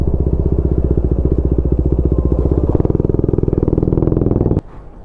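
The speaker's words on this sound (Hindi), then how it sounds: "कितना ही प्यारा एग्जॉस्ट नोट आता है इस बाइक का" A KTM Duke 250 fitted with an Austin Racing exhaust idles loud and close with a rapid, even, throbbing beat, the rhythm shifting partway through before the engine cuts off abruptly near the end, leaving a faint tail.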